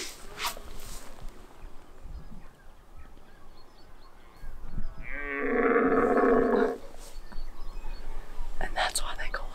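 A fallow deer buck gives a deep, grunting rutting roar lasting about two seconds, fairly close amid outdoor ambience, with people whispering before and after.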